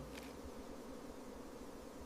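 Honeybees buzzing in a steady, continuous drone with a faint, even hum throughout, heard alone without voices.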